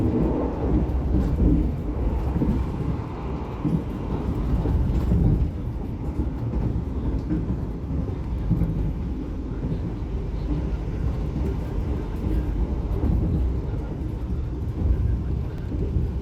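An Argo Bromo Anggrek express train runs straight through Brumbung station without stopping, producing a loud, heavy, continuous low rumble that stays steady for the whole stretch.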